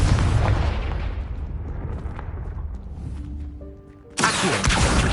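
Confringo fire spell explosion in Hogwarts Legacy, a heavy booming blast with a long rumbling decay that trails off, followed by a sharp second burst near the end.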